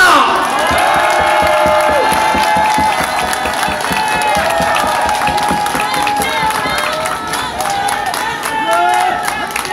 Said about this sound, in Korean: 여러분 대단히 죄송하지만 공동노조원들을 위해서 박수 한번 부탁합니다